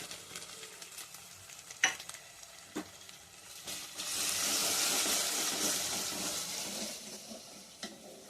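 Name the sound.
coriander powder and garam masala frying in pan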